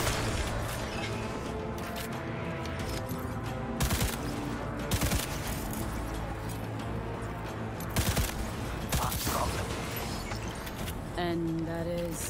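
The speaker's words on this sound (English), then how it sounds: "What is shooting me now?" Gunfire in Cyberpunk 2077 amid a busy game soundtrack, sharp shots recurring at intervals over sustained tonal music and effects, fairly loud.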